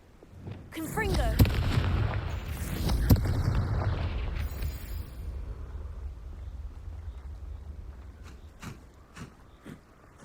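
Confringo fire spell explosion in the video game Hogwarts Legacy: a heavy, close booming blast with crackling bursts that rumbles on and slowly fades, followed by a few faint pops and ticks.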